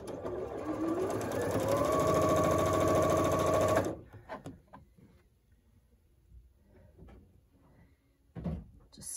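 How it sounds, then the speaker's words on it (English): A sewing machine stitches quilt block fabric in a steady, whirring run of about four seconds, then stops, followed by quiet handling of the fabric and a soft knock. "I'm going to sew on each side of the diagonal,"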